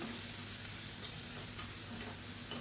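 Onions with green chili, garlic and pepper paste sauté in a hot pan, giving a steady, close sizzle with occasional stirring scrapes throughout.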